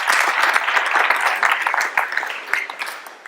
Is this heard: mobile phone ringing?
no